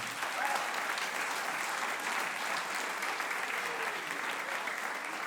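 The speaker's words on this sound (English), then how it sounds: "give our high school solo ensemble members a round of applause" An audience at a spring band concert applauds high school solo and ensemble performers, a dense, even roar of clapping heard from within the hall, with a faint voice briefly audible beneath.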